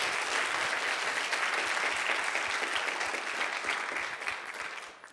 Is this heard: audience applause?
yes